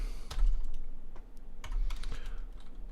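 Rapid keystrokes on a computer keyboard, a close series of uneven clicks with a few louder taps and no talk.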